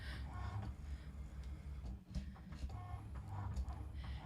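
A Cricut cutting machine runs steadily close by, a soft continuous whir with faint ticking and small rhythmic shifts as the blade carriage moves, with no talk.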